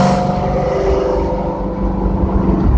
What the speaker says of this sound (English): So it has Corsa exhaust on it.